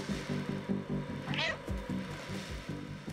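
A cat meows repeatedly in the game Stray, a string of loud, close mews and caterwauls coming in a steady rhythm over game background sound.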